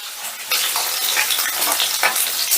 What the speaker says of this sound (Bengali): এবারে চিকেনগুলো ভেজে নিচ্ছি প্রথমে আমি লেগ পিস দুটো ভেজে নিচ্ছি